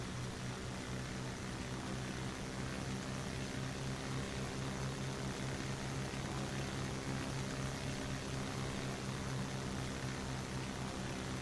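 Steady propeller-plane engine drone in a flight simulator, climbing toward a Papua New Guinea highlands bush strip; a loud, unbroken hum with no voices over it.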